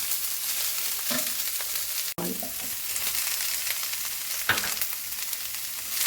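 Fresh green chickpeas with their leaves frying in a pan for a Telugu kalagura dish, a steady close sizzle with a few stirring scrapes and one sharp knock partway through, no talking.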